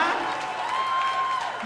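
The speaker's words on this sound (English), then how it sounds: "How about a big round of applause for my opening act" A comedy show crowd in Los Angeles applauds Stephen Lynch as the opening act, a moderately loud, steady burst of clapping heard from within the audience.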